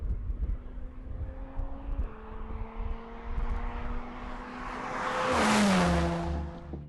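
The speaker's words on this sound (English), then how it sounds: "you're rewarded with lots of grip and confident steering, and an exhaust note from the V6 that never gets tired" A Jaguar F-Type coupe's V6 engine and exhaust, first droning steadily through two gear steps, then swelling into a louder revving pass near the end, heard alone without talk.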